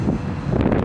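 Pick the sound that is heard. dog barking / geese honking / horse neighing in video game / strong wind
strong wind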